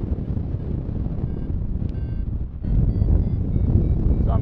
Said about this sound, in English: Quite a headwind.